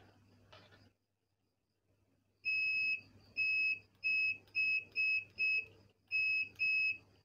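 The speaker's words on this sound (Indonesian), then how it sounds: "Kencang buzzernya." An Aneng SZ08 slim multimeter's continuity buzzer sounds eight loud, piercing electronic beeps in an uneven series. A brief click and a quiet pause come before them, and no one speaks.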